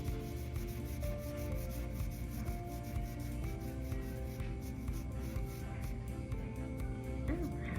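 A popsicle stick rubs and scrapes across a layer of craft paint, smoothing it in soft, continuous close strokes against a faint steady background hum.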